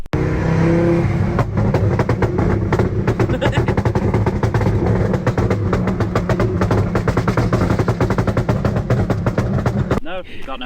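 A modified car engine runs loud and close with a rough, popping misfire, rapid irregular bangs crackling over a harsh revving drone, then cutting off near the end, with people talking over it.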